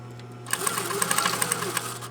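A sewing machine stitches a fabric gusset, starting after a short pause into a quick, even run of mechanical clicks over a steady motor hum, close and fairly quiet.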